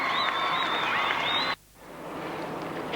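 Crowd at Waverley Park applauding during an AFL Lightning Premiership match, Essendon against Geelong, in 1996; steady broad clapping and crowd noise that cuts off abruptly halfway, leaving a quieter stadium murmur.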